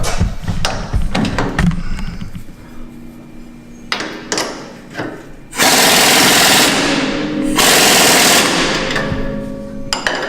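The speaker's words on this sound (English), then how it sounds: "Now I just have to get my impact, snug her up." An impact wrench snugs up a bolt on a budget suspension lift for a side-by-side UTV, with two sustained loud bursts of whirring hammering after some clanks and knocks of tools nearby.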